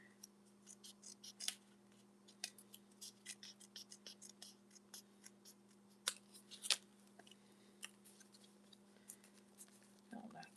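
Scissors snip through paper for a junk journal spread at a craft table, a run of quick crisp cuts in irregular bursts over a steady low hum, close and fairly quiet.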